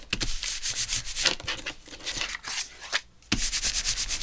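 Something rubbed by hand onto a blank notecard tag, rapid scratchy back-and-forth strokes close up, with a short pause before the rubbing resumes.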